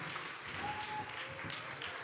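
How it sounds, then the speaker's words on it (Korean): A crowd claps steadily in a church Easter service, a dense wash of applause for a children's musical team filling the room without pause for a couple of seconds. "수고한 우리 어린이 뮤지컬 팀에게 큰 박수로 격려하도록 하겠습니다"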